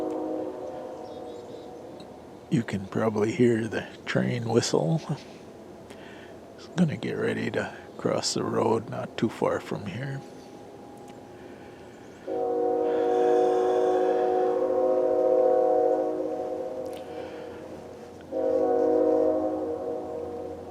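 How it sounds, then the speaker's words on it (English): A long, steady train whistle sounds from a distance, fading out and then returning, heard after someone speaks quietly outdoors during muzzleloader hunting season. "You can probably hear the train whistle."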